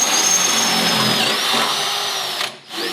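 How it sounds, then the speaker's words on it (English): Power drill boring holes for shock tower support bolts during a suspension install on a Plymouth Valiant project car, a loud whining motor with pitch sweeping up and down, briefly cutting out near the end before spinning up again. "Now you got to drill some holes out here for the shock tower support bolts."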